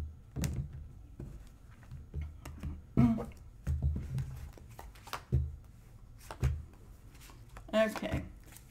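A tarot deck is cut and handled with soft card shuffles, taps and thumps on a table, close and intermittent.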